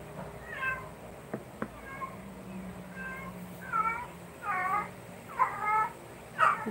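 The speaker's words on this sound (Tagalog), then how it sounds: "Gaya nito yung pusa dito sa amin" A cat meows repeatedly in a small household setting, a series of distinct mid-pitched calls spaced a second or so apart, moderately close over low background noise, with a couple of sharp clicks between.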